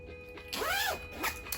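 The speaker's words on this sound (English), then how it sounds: "So let's get back to the zipper real quick." A jacket zipper pulled in two quick zips, a long rising-and-falling rasp then a shorter one, close and clear over faint room hum.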